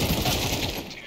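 A brief, loud rattle of gunshots in Counter-Strike 2 during an online match, packed tightly together with a voice faintly underneath.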